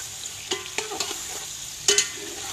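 Sausages frying and being stirred at a Siem Reap street food stall, a constant loud sizzle broken by several scraping stirs and clanks of the utensil, close up with no talking.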